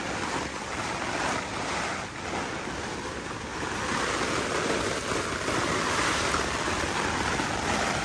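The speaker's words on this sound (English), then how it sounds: "We're getting blasted by hail right now." Hail and rain pound steadily on a Jack Wolfskin Yellowstone 2 tent in a violent storm, a dense, unbroken roar with gusting wind buffeting close to the microphone.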